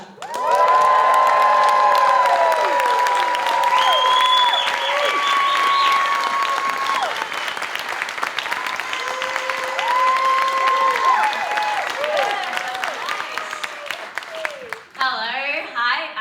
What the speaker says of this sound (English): So please make sure to cheer very loudly for Wendy Zukerman and Joel Werner.